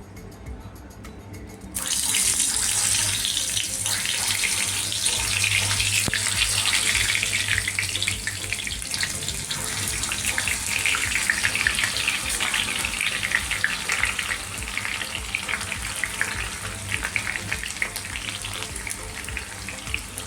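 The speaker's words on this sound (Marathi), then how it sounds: "ते डायरेक्ट आता ह्याच्यात तेलातच टाकायचे छान होतात बघा" After a brief quieter moment, a loud, steady hiss of banana slices frying in hot oil erupts and continues unbroken.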